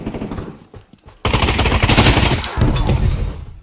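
Rapid gunfire from a video game weapon bursts in loud and dense after a quieter opening, sustained crackling shots filling most of the clip with brief dips, no speech.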